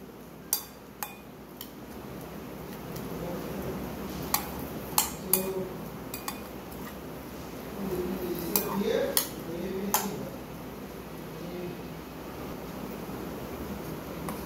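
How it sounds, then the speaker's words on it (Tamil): A spoon stirs a chaat masala and coriander mixture in a bowl, giving soft scraping swirls broken by scattered sharp clinks against the bowl, close and fairly quiet. "இப்போ இது எல்லாத்தையும் நல்ல ஒரு குயிக் மிக்ஸ் பண்ணிக்கலாம்."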